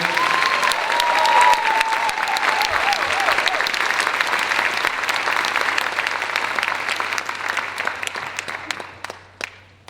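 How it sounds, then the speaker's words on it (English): An audience at a student awards night applauds steadily for about ten seconds, dense clapping filling the room before it gradually thins and fades out near the end. "how about a round of applause for all of our students this evening?"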